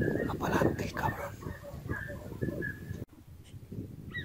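Hunting dogs bark in bursts during a Spanish montería hunt in wooded hills. The barks are repeated and moderately distant, and they mix with people talking close by.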